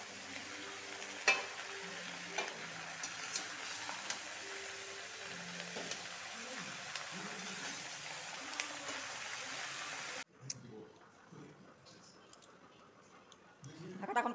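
Vegetables cook in a pan with a soft, continuous sizzle while a spoon scrapes and stirs at intervals. A few faint knocks are heard, and the frying noise drops away abruptly near the end.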